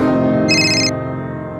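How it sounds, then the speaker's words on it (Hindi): A telephone ringing indoors, a bright electronic ringtone burst rising over a sustained tonal background, loud and close, with a second ring just starting at the end. "अन्ना का फोन।"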